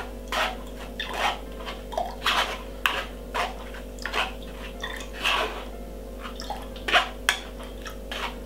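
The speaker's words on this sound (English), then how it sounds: "So let's run it through the strainer like this. Get rid of the fiber." Fresh apple juice with ginger and lemon being poured through a strainer, heard as irregular close splashes and drips with light clinks, over a steady low hum.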